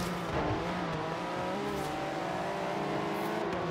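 A car engine drones steadily while driving in the racing video game Forza Horizon 3, a continuous mid-level hum with layered harmonic tones and faint tire noise, without any talk.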